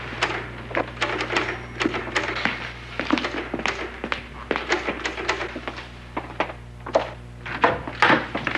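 Irregular clacking taps from a typewriter being struck down in a basement, sounding as a run of sharp keystrokes over a steady low hum, with no voices.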